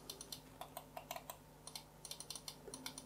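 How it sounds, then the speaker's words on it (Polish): Side buttons of a Cooler Master MM730 lightweight mouse clicked repeatedly at close range, giving quiet, crisp plastic clicks in irregular pairs and short bursts over a faint steady hum, with no talking. "I teraz ją sobie wyklikajmy, przyciski boczne."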